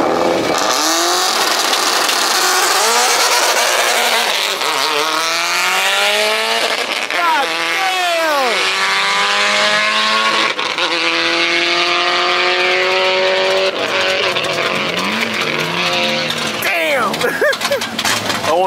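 A Subaru rally car engine roars loudly past at a rally stage, pitch sweeping up and down through several hard accelerations and gear changes, with people talking in the background.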